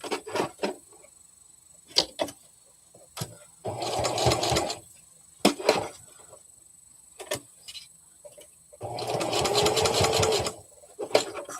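A domestic sewing machine stitches fabric slowly along a marked line in short bursts of steady whirring, separated by pauses with small clicks and handling noises; nearby and fairly loud.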